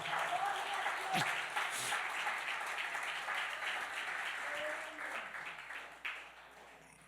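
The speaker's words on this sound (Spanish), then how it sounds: "Si va a darle un aplauso al Señor, déselo fuerte." Sustained applause from a church congregation fills the space, steady and loud, tapering slightly near the end with a few voices rising over it.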